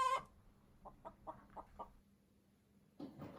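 Chickens give a quick series of about five soft, evenly spaced clucks, faint and close in a quiet setting, with a brief squawk at the start and a rustle near the end.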